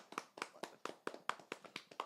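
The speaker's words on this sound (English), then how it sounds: "Let's clap it up for the Knicks." Steady rhythmic clapping by a small group cheering for the New York Knicks after their Game 7 series win, about eight crisp beats in two seconds, fairly faint.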